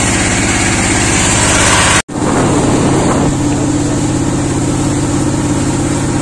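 Steady, loud drone of a motorboat engine heard from inside a river boat, running continuously apart from a brief cut near the start, with no talk over it.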